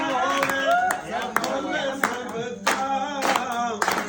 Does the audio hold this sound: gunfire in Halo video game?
no